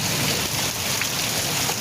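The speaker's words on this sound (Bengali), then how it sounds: "বৃষ্টি হচ্ছে তো হেভি বৃষ্টি হচ্ছে জোরে জোরে" Heavy rain falling hard, a dense steady hiss of drops close by, continuous and loud through a short stretch with no voices.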